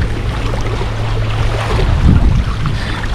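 Sailing canoe bouncing through choppy water in the Everglades, with steady low wind rumble over the mic and sloshing, slapping waves that swell louder near the two-second mark, no talking.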